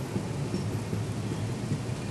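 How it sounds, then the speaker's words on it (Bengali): Heavy, steady downpour on a moving train, a dense continuous wash of rain noise with low rumble, with no voices. "ট্রেন ছাড়া কিছুক্ষণের মধ্যেই এইরকমভাবে মুষলধারে বৃষ্টি শুরু হয়েছে, প্রচুর বৃষ্টি হচ্ছে বাইরে।"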